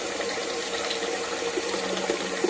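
Cold tap water streams steadily over hot cooked noodles in a sink, a continuous close splashing rush with no pauses and no talking.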